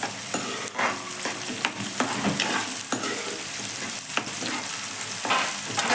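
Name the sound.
onions frying in oil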